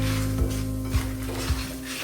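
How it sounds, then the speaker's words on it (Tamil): Dried red chillies frying lightly in oil for a country chicken gravy, a dense steady sizzle with several soft scraping stirs at regular intervals, close and fairly loud. "இதை அப்படியே லைட்டாக வறுத்து எடுத்துக்கோங்க."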